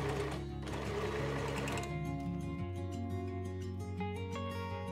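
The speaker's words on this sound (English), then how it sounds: "Stitch and finish with a serger or a zigzag stitch." A sewing machine runs a seam on a velvet dress, a close, fast steady whir that shifts pitch partway through as the stitching speed changes, with no one speaking.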